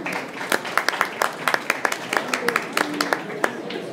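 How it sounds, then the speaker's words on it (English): Audience applause at a book launch in a bookstore, a steady patter of many hands clapping at moderate loudness with a murmur of voices underneath. "Can we have a round of applause, people?"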